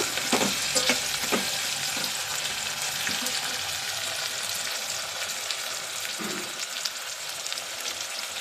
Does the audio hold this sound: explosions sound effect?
no